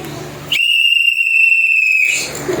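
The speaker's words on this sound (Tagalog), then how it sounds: "Tingnan natin kung tutunog yung pito." A whistle from an emergency go bag is blown once in a single shrill, steady tone lasting about a second and a half, loud and close, with faint room noise before and after.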